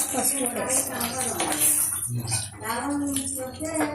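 A spoon scrapes and clinks against a bowl while fried tempering of mustard seeds, chana dal, cumin, dried red chillies and curry leaves is stirred into cucumber chutney, a few quick metallic taps with a voice talking over them.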